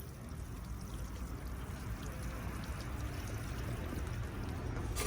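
Water trickling and draining through loose peat-free compost in a nursery setting, a soft steady pouring and dribbling wash that holds at an even level for the whole stretch, with no talk.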